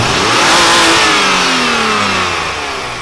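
A supercharged BMW engine revs hard at full throttle, a loud, sustained high-rpm roar with rising harmonics that holds steady and eases slightly toward the end.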